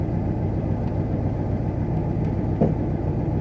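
A 1994 Ford F250 with a 460 engine and many exhaust leaks idles in a steady, even low rumble, moderately loud with no strong pulses or revs.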